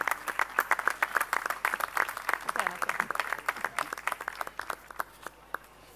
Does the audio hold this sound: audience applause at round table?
yes